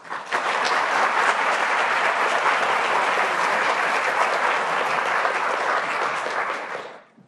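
An audience at a talk on environmental reporting breaks into dense, steady applause that holds at full strength for several seconds before fading out abruptly at the end.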